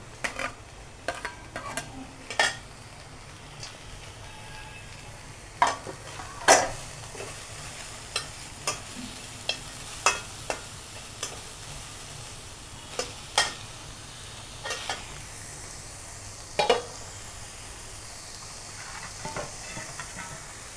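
Sliced onions frying in hot oil in a pan, giving a steady low sizzle broken by frequent sharp clicks and scrapes of stirring, close up with no talking.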